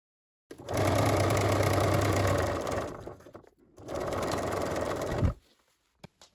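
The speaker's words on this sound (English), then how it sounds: "I will overlock the seam allowance together" An overlocker serges the seam allowances of a reversible skirt together, running in two sustained, close, whirring bursts of a few seconds each with a brief pause between, followed by a couple of small clicks.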